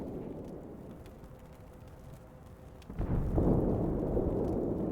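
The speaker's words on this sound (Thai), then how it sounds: "ระเบิดไปละ" A loud rumbling explosion bursts out about three seconds in during a War Thunder tank battle, rising from a low background rumble of engines and staying heavy and sustained afterwards.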